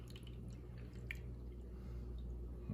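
Water is poured slowly into a container of alfalfa sprouts, a faint, quiet trickle with small drips over a low background hum.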